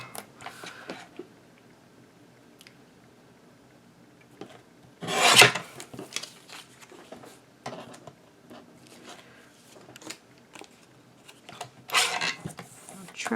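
Paper cutter trimming the top and bottom off a recycled Christmas card, giving a short loud rasping slice near the middle and a second brief cut toward the end, with soft handling rustles between.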